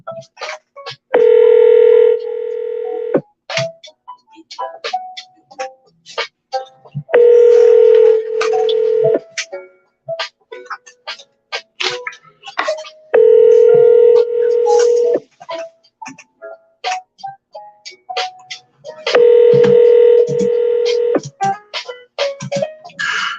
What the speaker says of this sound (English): Usually when a phone rings, or when actually the phone goes back to ringing situation